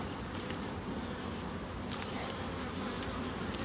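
Honeybees swarm around an open hive during a late-October inspection, a dense, continuous buzzing drone close by with a few louder passes of individual bees over a steady hum.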